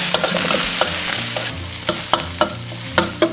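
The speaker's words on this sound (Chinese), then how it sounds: "下入葱姜蒜炒香" Scallion, ginger and garlic stir-fried in a wok with minced pork, a loud close sizzle punctuated by a rhythmic series of sharp spatula clacks against the metal, with no voices.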